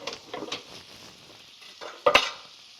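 Onions go into a hot pan with a soft sizzle, followed by a few stirring scrapes and a sharp metallic clink from a utensil against the pan.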